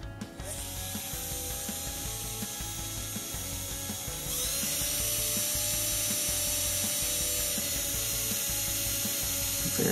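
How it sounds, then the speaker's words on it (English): A power drill whirs steadily with a rhythmic ratcheting grind as it bores into a plastic mailbox, its pitch and loudness stepping up partway through. "Drill into the plastic right about"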